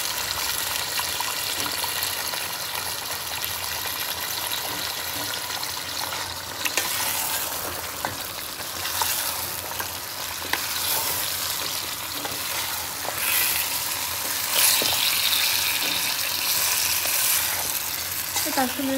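Chicken and potatoes fry in a pan with a loud, dense, continuous sizzle, occasional stirring clatter and crackling bursts, close and with almost no talking.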